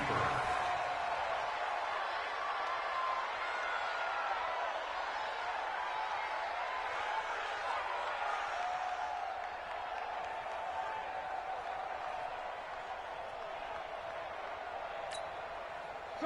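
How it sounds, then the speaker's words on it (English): A steady roar from the Arrowhead Stadium crowd at a Kansas City versus Indianapolis football game, with constant, even, broad noise from a large crowd and a faint voice underneath. "this is where the Arrowhead crowd can make it very tough"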